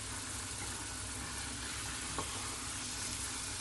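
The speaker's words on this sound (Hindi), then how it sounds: "Masala is frying well from last 5 minute." Masala fries in a pan for chicken jalfrezi, a continuous soft sizzle with a brief stir or clink midway, quiet and close, no voices.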